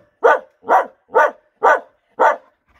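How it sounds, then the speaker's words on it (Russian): A dog gives five short, evenly spaced barks, loud and close, each a sharp bow-wow with a clear gap between, with no other sound. "Вот так будешь на зверя лаять."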